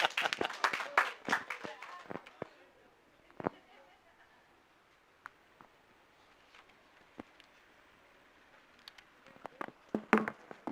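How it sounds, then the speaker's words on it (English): Audience clapping at an official gathering of an India outreach program, a dense burst at the start that fades to scattered claps, with another short burst near the end. "here you can have a bigger round of applause"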